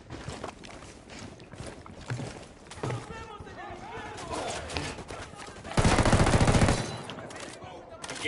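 Squad gunfire in Ghost Recon Wildlands sounds as a short, dense burst of rapid automatic shots after some quieter movement and voices.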